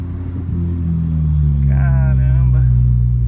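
A 2010 Toyota Corolla fitted with a DPW full 304 stainless steel exhaust diffuser, rumbling deep and loud at close range as the engine revs up and holds a steady throaty drone, with a voice speaking briefly over it.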